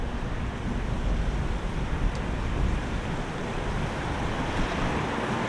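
A waterfall on the River Porter in Sheffield's city centre makes a continuous broadband rushing roar, steady and fairly distant, with no voices.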